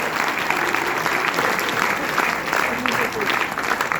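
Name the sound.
audience applause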